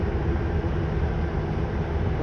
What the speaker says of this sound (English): There's a dredger. That's the noise you can hear.